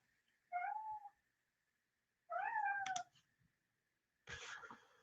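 A cat meows three times, each a drawn-out, fairly close call separated by quiet gaps, the last one harsher and noisier, in a quiet room without talking.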